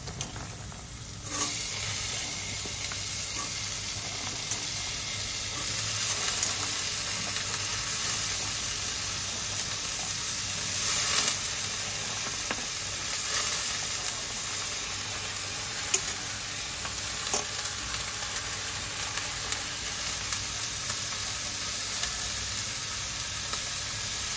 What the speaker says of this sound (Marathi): भाज्या छान परतून झाल्या